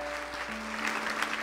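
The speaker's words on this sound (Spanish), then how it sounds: "¿Qué te parece si le damos un fuerte aplauso?" A church congregation applauds during a service, a steady wash of clapping at moderate level with a faint sustained tone running underneath.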